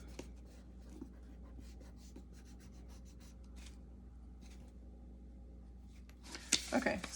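An eraser rubs out pencil lines on paper during a cube perspective drawing lesson, a soft, faint, rapid scrubbing in short repeated bursts, with louder handling rustles toward the end.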